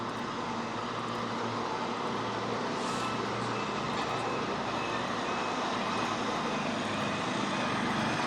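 Truck passing at a distance on a road, a steady broadband rumble and hiss of engine and tyres that stays fairly even and fills the whole stretch without talk.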